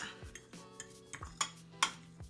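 Strawberry crunch brownie mixture being stirred and mashed in a bowl: quiet, close clinks and scrapes of a utensil against the bowl in an irregular rhythm, with a couple of sharper knocks.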